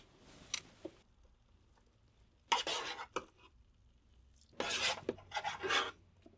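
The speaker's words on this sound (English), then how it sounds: "we're going to scoop some food out" A big spoon scrapes and scoops bone broth rice and Creole red beans out of a pot, giving a few separate raspy scraping bursts with quiet gaps between them and no talking.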